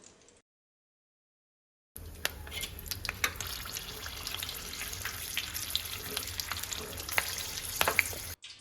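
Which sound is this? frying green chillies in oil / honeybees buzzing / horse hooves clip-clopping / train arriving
frying green chillies in oil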